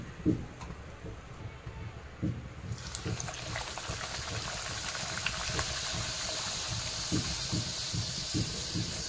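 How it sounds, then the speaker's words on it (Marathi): Puris deep-frying in hot oil: a loud, steady bubbling hiss begins a few seconds in and continues, with occasional soft knocks underneath. "याच पद्धतीने आपण सर्व पुऱ्या तळून घेऊया।"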